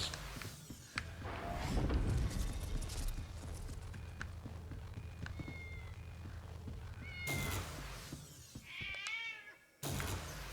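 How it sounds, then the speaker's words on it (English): A ghost cat in a reimagined Haunted House video game meows several times amid footstep-like clopping and other game noises, with a sharp, wavering cry standing out near the end before a sudden cut. "The ghost cat."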